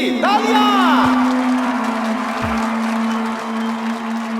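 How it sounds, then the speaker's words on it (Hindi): A crowd gathered for a wedding announcement bursts into cheering and applause, loud and close, with whoops and scattered voices, while a sustained musical tone and sweeping effects run underneath. "तालियां!"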